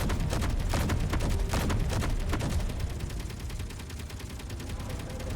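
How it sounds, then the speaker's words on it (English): Gatling turrets in Space Engineers fire rapid continuous bursts, a dense rattling stream of shots, loud and near, thinning into a rumbling backdrop in the second half, with no talk. "Oh, all my turrets are shooting."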